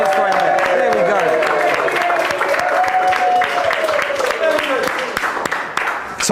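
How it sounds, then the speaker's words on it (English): A studio audience at a live football preview show gives a dense, sustained round of applause. A voice talks over the clapping from start to finish. "Nice round of applause for him."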